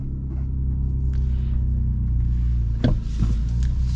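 A 2025 Ram RHO pickup truck drives with a steady, deep engine rumble throughout, swelling slightly as it accelerates, with a couple of brief knocks or clunks near the end.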